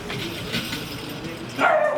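A dog gives a short, sharp bark near the end, rising above a steady murmur of background noise and voices.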